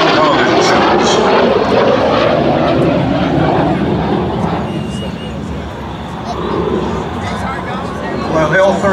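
An L-39 Albatros jet at the 2014 Culpeper Air Fest produces a loud, sustained engine roar that swells and fades slightly as it passes. Crowd chatter and a commentator's voice carry along underneath throughout.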